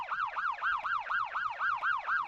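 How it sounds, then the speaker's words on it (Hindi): A police siren wailing in a rapid, repeating up-and-down sweep, loud and fairly close, with about nine even cycles and no voices over it. "अरे ये घंटी नहीं, पुलिस का सायरन है।"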